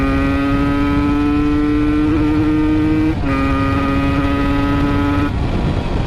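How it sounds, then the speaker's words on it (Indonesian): An Aprilia RS 125 motorcycle with a Rotax engine holds a loud, close, steady buzzing drone, its pitch dipping briefly and shifting slightly as the rider eases the revs. "Tuh, bunyi mesin itu sangar banget."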